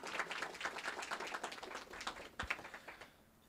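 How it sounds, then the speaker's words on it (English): A small audience at an IT project management talk claps for the event organizer, a quiet, fairly sparse patter of individual hand claps that thins out and stops after about three seconds. "So let's give Ernie a round of applause."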